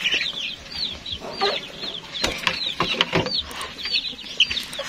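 Free-range farm hens cluck repeatedly at close range, their short calls overlapping against a busy, mechanical-sounding farmyard background with no speech.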